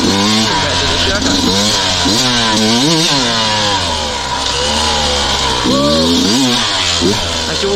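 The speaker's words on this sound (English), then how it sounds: "we'll go take the Beta for a spin now" A Beta 200 two-stroke dirt bike engine revs and rises repeatedly, loud and close, with a rider talking over the buzzing exhaust.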